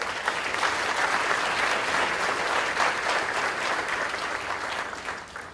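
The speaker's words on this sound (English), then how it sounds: "let's give these people a round of applause for their support" Audience at an opening plenary of a housing forum breaks into sustained applause, thick and even clapping at a steady level that tapers slightly near the close.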